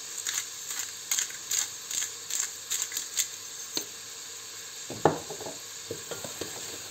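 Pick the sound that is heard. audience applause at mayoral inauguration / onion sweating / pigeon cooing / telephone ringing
onion sweating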